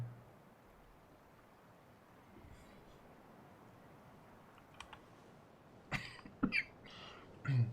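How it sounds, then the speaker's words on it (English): A person coughs a few times close to the microphone near the end, after a stretch of quiet room sound with faint keyboard clicks. "This stupid cough is killing me."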